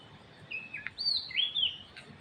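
A small bird chirps several high, bright tweets in quick succession, clear and fairly close, over faint background noise, in an evening Bangkok neighbourhood with power lines.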